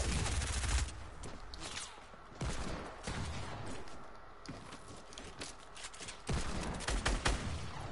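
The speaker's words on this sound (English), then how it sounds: "I'm gonna shoot the floor out." Bursts of video-game gunfire blasting at the floor come in loud clusters at the start, middle and end, with quieter rattling stretches between them.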